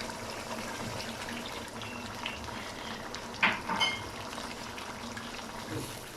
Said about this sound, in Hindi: अब 1 कप गर्म पानी डालेंगे।